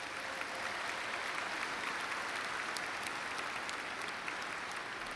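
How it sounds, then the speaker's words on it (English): Steady, sustained applause from a large commencement audience honoring faculty and staff at the 2022 Eberly College of Arts and Sciences undergraduate ceremony, heard evenly and somewhat distant throughout, with no talk. "Give that faculty and staff a round of applause, would you please?"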